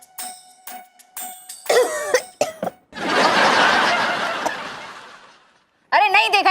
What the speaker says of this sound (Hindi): नॉर्मल खांसी थी